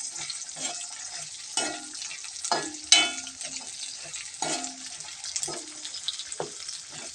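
Bitter gourd sautéing in hot oil for pickle, a steady low sizzle with periodic scraping stirs and clinks of a spoon against the pan, close and moderately quiet.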